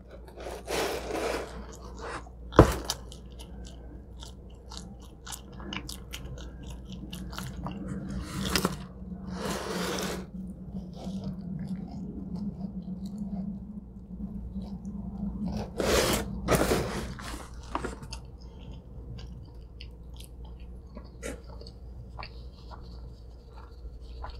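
Someone chewing the crispy edge crust of a giant cheese pizza slice: close, intermittent crunches and bites, separated by quieter stretches.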